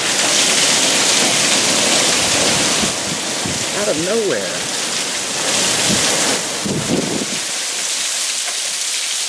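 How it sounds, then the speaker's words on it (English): A heavy rainstorm pours steadily and loudly close by, with low rumbles of thunder beneath and a voice briefly heard over the downpour. "I'm gonna go show this rainstorm."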